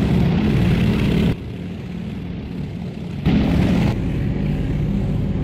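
A Grumman E-1B Tracer propeller aircraft in a flight simulator game rolling for takeoff, a steady loud engine and propeller drone that shifts level in abrupt steps, with no voices.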